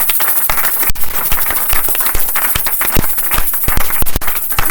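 Audience applause at a church gathering with a prophet preaching, dense steady clapping from many hands sustained throughout with a few louder sharp claps standing out, no talk over it.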